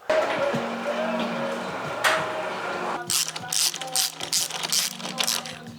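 Ratchet wrench clicking as bolts are tightened on a rear rack being fitted to a Zooz e-bike, rapid rhythmic clatter in the second half after a noisy steady hum, close by.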